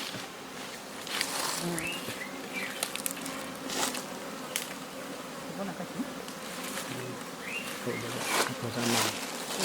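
Bees buzz steadily at an opened beehive in a village apiary, a dense close hum with sharper passes from individual insects and someone talking faintly in the background.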